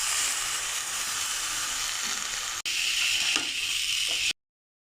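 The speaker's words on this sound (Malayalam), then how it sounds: "ഇനി നമുക്കിത് മുളക് പൊടി മൂപ്പിക്കാം കേട്ടോ" Chili powder sizzles in hot oil in a pan while a dried-mango pickle is made, a steady close hiss that runs unbroken apart from one brief dropout and then cuts off.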